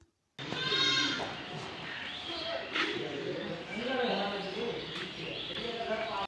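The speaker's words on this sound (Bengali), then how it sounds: "এখানে ছাগলগুলো বিশ্রাম নিচ্ছে।" Goats bleat repeatedly inside a small farm's resting shed, several animals calling close by and overlapping in a busy, continuous chorus.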